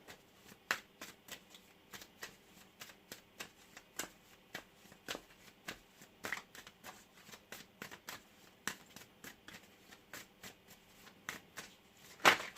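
Tarot cards are shuffled quietly close by in a steady run of soft, rapid riffling clicks, ending in a sharper burst of shuffling. No one speaks.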